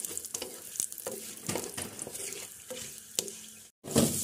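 Whole cumin seeds, three dried chillies and torn bay leaves sizzle and crackle in hot oil in a pan, with steady frying hiss and a few stirring scrapes, close and fairly loud, broken by a brief silent gap near the end.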